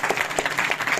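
A school audience bursts into brief applause at an exam-results announcement, a dense patter of many hands clapping for about a second.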